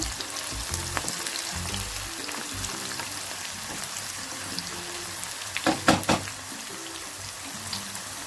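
Green chillies fry in hot oil for tamarind pulihora, giving a close, continuous sizzle with soft stirring. A brief burst of clattering near the end stands out over the frying.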